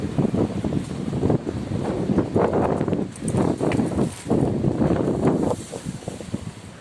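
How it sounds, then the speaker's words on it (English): Strong wind buffets a camera microphone outdoors on a Benidorm walking tour, a loud, continuous low rumble that surges and dips in gusts for the whole clip. "the wind's just blowing it straight round there"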